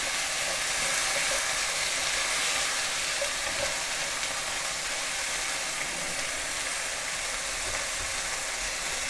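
Beef stir-frying in a hot pan for beef and broccoli in oyster sauce gives off a steady, close, continuous sizzle with no voices.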